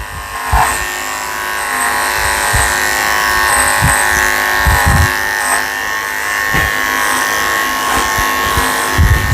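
Electric dog clippers with a number 7 blade buzz steadily and close up while trimming the back of a Scottish terrier, a continuous hum with small bumps and changes in pitch as the blade moves through the coat.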